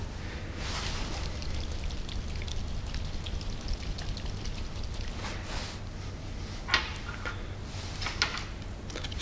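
Iodine solid shaken in potassium iodide solution inside a container gives a faint, continuous liquid sloshing with scattered light ticks and clinks, and no voices.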